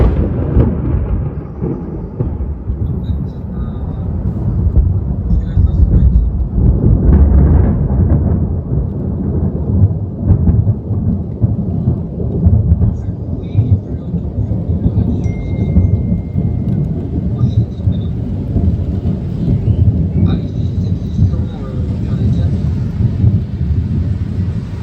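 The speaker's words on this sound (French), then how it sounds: "enregistre le tonnerre semblable à une déflagration" Thunder from a nearby storm cracks and rolls like a blast, heavy low rumbling sustained throughout with rain and wind buffeting the microphone.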